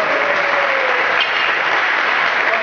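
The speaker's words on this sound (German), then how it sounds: "Kleinen Applaus" A circus audience under the Cirque Artikuss big top gives steady, dense applause, a continuous close wash of clapping with no voices on top.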